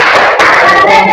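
A group claps together in a rhythmic classroom cheer, a dense, loud burst of hand claps filling the moment with a brief dip partway through.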